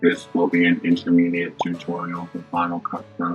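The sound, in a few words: robot voice effect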